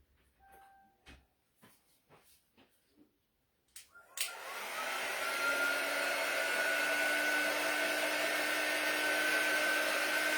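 A hair dryer switches on and runs steadily to dry a glittered Dollar Tree craft bunny: a loud, continuous close whoosh and whine that holds after a few seconds of handling clatter, with no talking.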